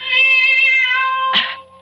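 A cat meows outdoors in one long, loud, sustained wailing call that ends in a brief rough burst, close by with no talk.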